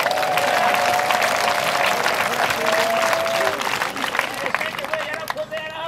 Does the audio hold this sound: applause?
yes